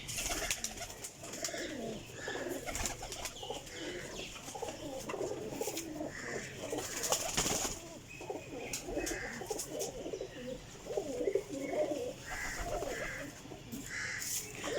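Many pigeons coo steadily in a loft, including jalebi-coloured high-flying birds, their soft overlapping calls filling the space with a few crow-like caws mixed in.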